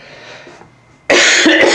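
Quiet background hum gives way to a sudden loud, close cough burst that continues harshly to the end.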